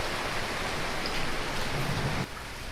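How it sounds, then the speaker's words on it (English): Steady rain falling on a humid, stormy day, a dense even hiss of drops on surfaces that holds at a constant level throughout, with no voices. "It's a very humid, very stormy, rainy day today."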